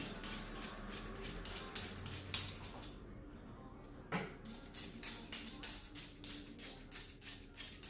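Scissors cutting a shih tzu's hair with a comb, making quiet, rapid snipping clicks in a steady rhythm with a short pause partway through.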